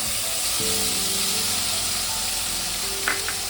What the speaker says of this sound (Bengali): এবার আমি ওই তেলে দিয়ে দেবো আদা আর পেঁয়াজ বাটাটা